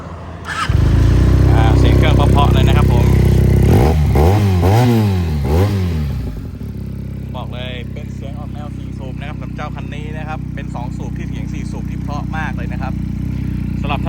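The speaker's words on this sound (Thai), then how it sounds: "เดี๋ยวมาฟังเสียงเครื่องกันนะครับ" Benelli TNT300 motorcycle from 2018 converted to CB500X styling, its engine idling loud and close with a couple of revs partway through, while someone talks over the steady running.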